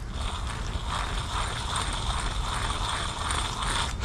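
Worn front wheel hub bearing from a 2014–2020 Nissan Rogue, giving a steady grinding, ratcheting mechanical whir that holds at an even level for about four seconds, close up and with no talking.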